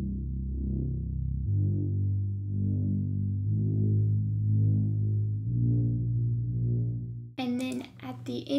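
A Prophet V3 synth bass preset plays sustained low notes that change roughly every second and a half, each with a slight swell, before a voice cuts in at the end.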